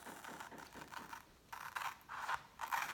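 Quiet rhythmic snipping and scraping of a blade cutting out a paper or card stencil, in short bursts with brief pauses, close and soft.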